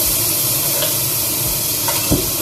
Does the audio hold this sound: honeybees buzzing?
no